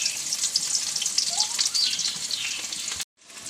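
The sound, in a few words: onions frying in hot oil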